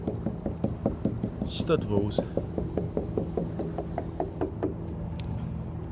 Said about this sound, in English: You're doing a different type of knock.